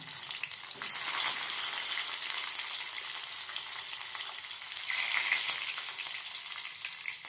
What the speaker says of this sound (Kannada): ಅದು ಚೆನ್ನಾಗಿ ಫ್ರೈ ಆಗಲಿ.